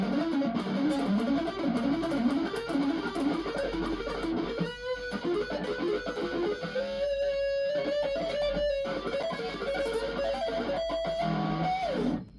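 A distorted electric guitar runs fast, palm-muted diminished arpeggios in a rippling pattern, then rises into higher sustained lead notes, loud and continuous.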